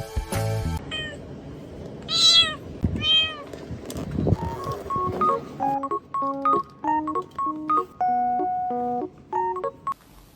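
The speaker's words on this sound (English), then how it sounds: "This black cat climbing the white Christmas tree is so beautiful, like a shining Christmas star." A cat meows several times, drawn-out and wavering, loud and close, followed by a run of electronic telephone-dialing tones in a rapid rhythmic pattern.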